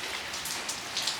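Heavy morning rain pours steadily outdoors, a dense, continuous hiss of drops striking surfaces with no voices.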